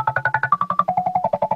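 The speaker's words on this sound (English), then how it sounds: "Pitching it up 13 semitones and 30 cents down" Synth sample pitched up 13 semitones and 30 cents down, playing as a quick run of roughly eighteen short, bright pulses that step down in pitch in a tight, fast rhythm.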